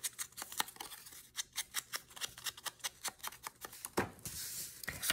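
Scissors snipping paper tags in half, a quick run of about twenty sharp, evenly spaced crisp cuts close to the microphone, ending with a brief rustle of paper, with no talk.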